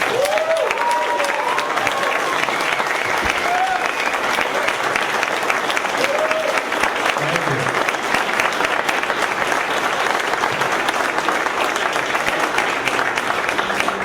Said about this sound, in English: let's give a big round of applause for Tim DeChristopher